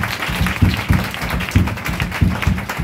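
A church congregation applauding during a worship service, steady rhythmic clapping in loud close bursts with no distinct cheering voices.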